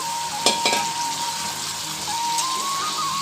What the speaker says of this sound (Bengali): তো মাংসটাকে নেড়ে চেড়ে নিচ্ছি, হালকা ভেজে নিব।